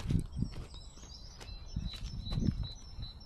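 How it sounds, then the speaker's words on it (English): Faint birds chirp and whistle in short, high calls through a quiet outdoor scene at a caravan park, with soft low thumps and rustles underneath. "very quiet at the moment. All you can hear is birds."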